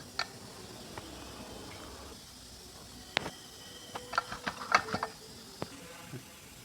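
Maruti Omni gearbox being taken apart with a faulty selector bearing: scattered metallic clicks, ratcheting and clinking of parts, a sharp clank near the middle and a busy cluster of small metal taps toward the end, close by.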